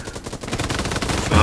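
Rapid machine gun fire in a video game rattles in quick bursts, fairly loud and continuous over the brief moment, with no clear talking over it.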